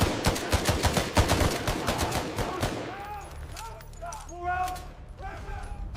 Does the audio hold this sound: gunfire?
yes